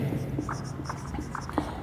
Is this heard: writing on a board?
yes